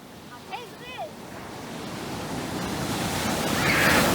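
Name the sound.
waterfall rushing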